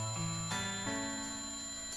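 A ringing alarm bell in the Yo-Kai Watch 3 video game, a bright steady electronic chime with sustained tones that step in pitch a couple of times, heard alone and fairly clear.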